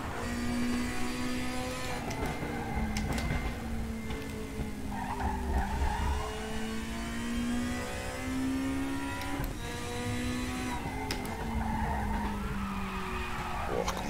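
A BMW M3 race car is driven in the RaceRoom sim racing game, its engine rising and falling through gear changes under loud, sustained tire squeal and skidding, continuous and close, with no talking.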